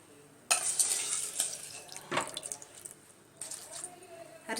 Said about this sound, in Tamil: அரிசி சேர்த்து விட்டுட்டு கொஞ்சம் கிண்டி விட்டுடலாம்.